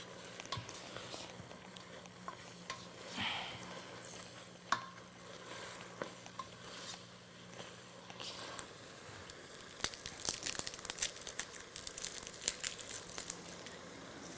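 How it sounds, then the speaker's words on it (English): Ground beef browning in a pot for chili is broken up with a utensil, giving faint crinkly sizzling and soft scraping stirs that grow busier toward the end, with no talking. "break up any big clumps of ground beef that still remain in the pot"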